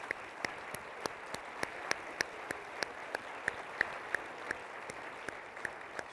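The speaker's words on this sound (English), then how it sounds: "Can we give a round of applause for them sharing that story?" Sparse, rhythmic clapping at a cancer research foundation gala, a few distinct sharp claps in a steady beat, fairly faint and heard over a quiet room murmur.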